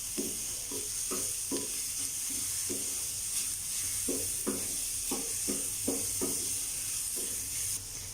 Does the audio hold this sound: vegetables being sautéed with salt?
yes